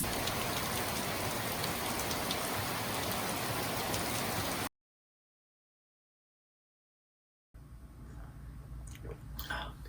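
Heavy rain pours steadily and loud, breaks off into silence, then returns somewhat softer with scattered drops.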